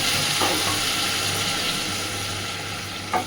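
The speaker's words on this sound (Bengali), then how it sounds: "এবার দিয়ে দিচ্ছি জল" Water goes into a pan of sizzling, oil-rich fried masala for koi fish curry, giving a strong, steady hiss and bubbling that hold evenly for several seconds.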